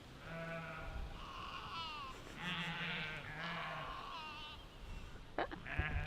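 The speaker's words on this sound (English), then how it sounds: "Sheep on the run." A flock of sheep and lambs bleats on a grassy hillside, with many overlapping wavering cries, some high and thin, some lower, repeating near and far over a soft background, with a few faint knocks at the end.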